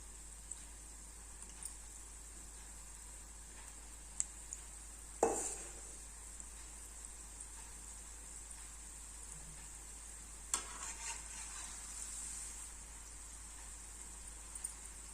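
Sweet seedai dough frying in hot oil on a low flame, a faint steady bubbling hiss with a couple of sharp clinks and scrapes of a ladle against the pan.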